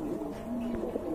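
Pigeons held for sale coo softly in a low, throaty murmur, faint and close, with one brief rolling call over a quiet background.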